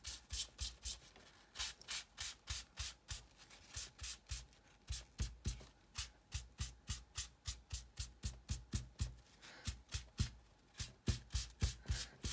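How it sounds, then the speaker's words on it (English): Tissue rubbing over blue pastel colour on paper, a soft, close, rhythmic swishing in quick regular strokes that continues steadily with short breaks, no talking. "I will take some tissue and I will smooth out the blue colour."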